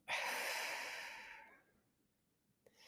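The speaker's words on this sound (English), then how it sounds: "Let me just take a breath." A person pauses to take one long, audible breath close to the microphone, followed by near silence and a faint click.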